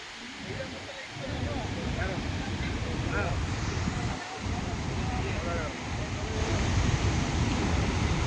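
Gaganachukki waterfall pours heavily, making a continuous dense roar of rushing water, with a voice speaking faintly over the din.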